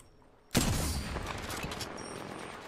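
Gunfire in the video game Apex Legends, a sudden loud burst of shots that decays into a long rumbling, crackling tail of rapid fire.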